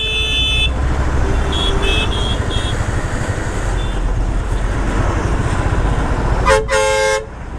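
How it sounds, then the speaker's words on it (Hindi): Loud car horn blasts near the end over constant traffic rumble on a barricaded road near Delhi, with fainter short beeps earlier in the busy road noise. "ओहो इतना तेज हॉर्न"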